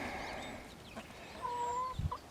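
Backyard chickens cluck and make a brief drawn-out call near a coop, a few soft clucks close by over quiet outdoor ambience.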